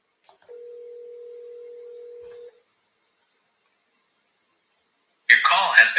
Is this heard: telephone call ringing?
yes